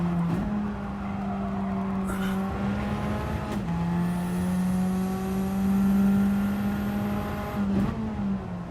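A race car engine in a racing game holds a loud, steady high drone as the car is driven hard, with brief dips and pitch shifts at gear changes and no talk over it.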